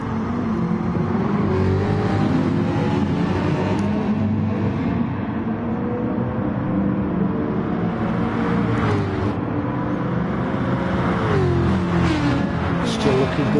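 Racing car engines in a PS4 racing video game roar and accelerate continuously, a loud, dense drone of several cars with rising and falling revs throughout.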